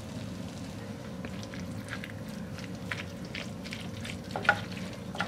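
Ground beef with brown sugar, yellow mustard and Worcestershire sauce stirred in a pan, a soft steady sizzle with faint scraping and a few light clicks of the utensil, quiet and close.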